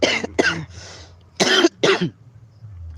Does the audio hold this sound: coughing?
yes